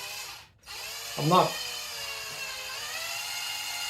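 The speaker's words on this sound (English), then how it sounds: "I'm letting the drill just screw pretty much right through the hole, so that it just goes in nice and straight." A power drill drives through a hinge pin hole on a Traxxas Sledge RC car, giving a steady, close motor whine throughout, briefly interrupted by a short spoken phrase.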